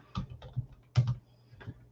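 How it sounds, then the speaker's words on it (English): Several soft keystrokes on a computer keyboard, a few quick taps spaced unevenly and close by in a quiet room. "Let me see if I can type another one."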